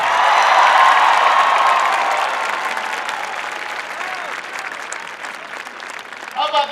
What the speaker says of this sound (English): Please give a big round of applause to your governor